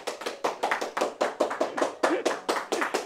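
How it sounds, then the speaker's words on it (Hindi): An audience claps at a live trading seminar, a brisk run of sharp, close hand claps in a steady rhythm with no talk over it. "इतना सन्नाटा क्यों, ताली कौन बजाएगा?"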